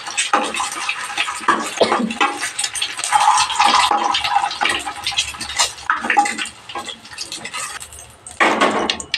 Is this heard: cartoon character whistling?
no